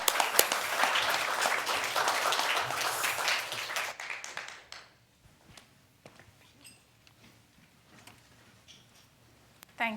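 A conference audience gives a dense round of applause welcoming the next speaker, loud and steady for about four seconds, then fading into scattered claps and a quiet room.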